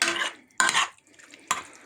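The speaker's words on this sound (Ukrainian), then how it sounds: "Ми це діло все перемішаємо." A pumpkin candy mixture with gelatin and honey being stirred in a bowl, heard as three bursts of scraping, swishing strokes separated by short pauses, close and fairly quiet.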